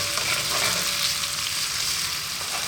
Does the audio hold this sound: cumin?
yes